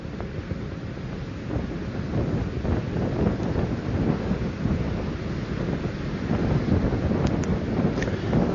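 Space Shuttle Endeavour on the STS-108 launch in December 2001, a steady, loud low rumbling roar during ascent that persists unbroken throughout, heavy and broadband like distant thunder or wind buffeting.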